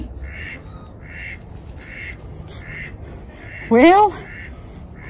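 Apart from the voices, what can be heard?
goose honking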